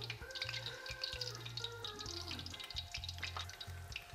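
Beer-battered prawns sizzle and crackle steadily in hot oil, a dense spitting hiss throughout, with a low hum underneath.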